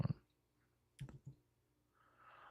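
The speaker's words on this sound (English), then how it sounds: "I am typing it in chat." A few sparse, quiet clicks of typing on a computer keyboard, a short cluster at the start and a couple more keystrokes a second later, in an otherwise quiet room.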